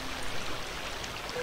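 Steady broadband rush of a river flowing in The Cat Lady video game, a continuous even wash of water heard alone with no voices.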